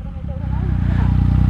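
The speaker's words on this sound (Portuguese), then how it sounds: "Mas a moto empina sozinha." A motorcycle engine revving hard while the rider pulls a wheelie with a passenger on the back, a steady rising drone that builds and holds loud, with talk over it.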